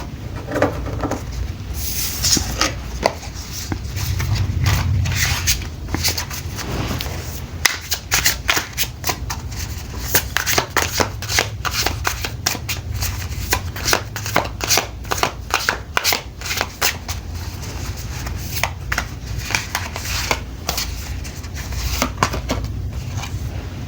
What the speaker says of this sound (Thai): พร้อมแล้วเดี๋ยวมาสับไพ่กันนะคะ